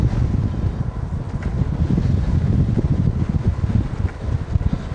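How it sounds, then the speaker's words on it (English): Strong wind buffets a rider crossing open Kansas hills on a cloudy day, a loud, continuous low roar that rises and falls with gusts. "I knew that wind was going to be rough when we turned to go to the southeast here, or the northeast here."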